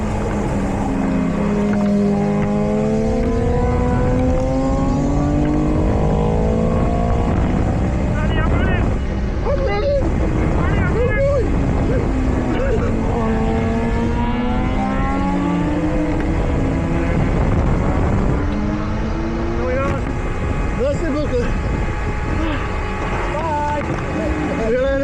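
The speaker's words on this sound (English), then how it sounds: "just watch these bikes here." Racing motorbikes at Donington Park circuit during a three-hour endurance race, engines screaming and rising and falling in pitch as they pass through gear changes, loud and continuous with overlapping bikes and a voice talking underneath.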